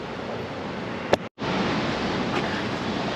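Steady broadband wash of ocean waves rolling onto a Panama City Beach shore in Florida, with a brief sharp knock and a momentary dropout midway, no voices.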